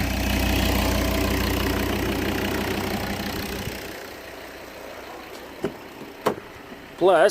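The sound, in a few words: Volvo V70 D3 2.0 diesel engine idling and revving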